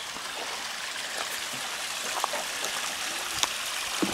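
A garden water feature trickling in the rain in Cumbria, a steady soft wash of flowing water with faint drips, fairly distant and without any voice.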